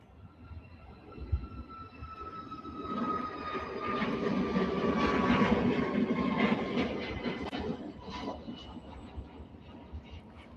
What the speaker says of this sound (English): Southwest departing.